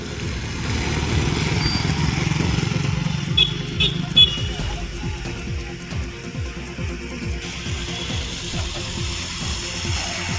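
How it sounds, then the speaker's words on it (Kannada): A motorcycle engine revs and roars on a busy road during a wheelie stunt, loud and close, with other traffic and a horn mixed into a dense hum of vehicles. "ವಾಹನಗಳು ಓಡಾಡುವ ರಸ್ತೆಯಲ್ಲೇ ಬೈಕ್ ವೀಲಿಂಗ್ ಸಾಹಸ ಮಾಡಿದ್ದಾರೆ"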